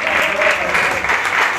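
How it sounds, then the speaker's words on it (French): Audience at a casino anniversary gala clapping to welcome a female TV host onstage, a short, loud, dense burst of applause with some crowd murmur mixed in. "Viens là, Selva, pour l'applaudir."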